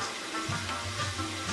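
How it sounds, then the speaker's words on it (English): Meat fries in a covered cauldron in Afghan-style home cooking, a faint, soft sizzle and hiss with a low bubbling undertone, quiet and brief. "We add salt when the meat is frying."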